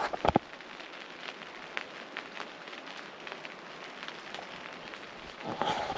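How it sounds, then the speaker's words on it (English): Light rain pattering on a camp as a storm comes in, a faint steady hiss with scattered soft drops and a couple of sharper taps, outdoors with no voices. "Yep, it's raining."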